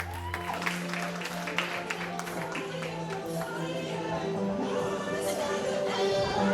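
Audience clapping for children walking in a kids' fashion show, a steady patter of applause under music with tonal lines running throughout.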